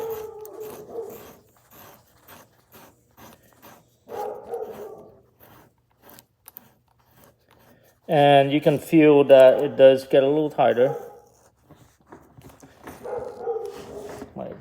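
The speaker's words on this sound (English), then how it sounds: "My dog is barking." A pet dog barks in a rapid run of loud, close yips and woofs in a garage workshop during AN fitting installation, with someone talking before and after.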